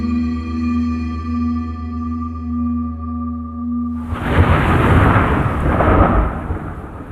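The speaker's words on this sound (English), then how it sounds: "there is the usual flash of light, and the thunderclap" A thunderclap sound effect in a fantasy radio drama: a steady low electronic drone gives way abruptly to a loud, close, crashing boom that rolls on as a heavy rumble to the end.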